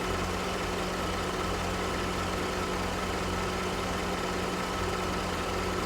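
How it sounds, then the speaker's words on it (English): A car engine idles with the AC compressor running during a refrigerant recharge, giving a steady, unbroken mechanical drone and hum up close, with no voices. "So as the AC compressor cycles, it's sucking more in."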